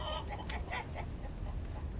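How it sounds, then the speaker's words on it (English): Chickens cluck softly at the edge of the woods, a few short, faint calls and scuffles against a quiet outdoor background. "Something has unsettled the chickens."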